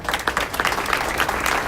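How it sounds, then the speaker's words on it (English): Brief burst of audience applause at a 2019 community breakfast honoring Sheriff Pete Perez, moderately loud scattered clapping from a room of people. "Give a round of applause"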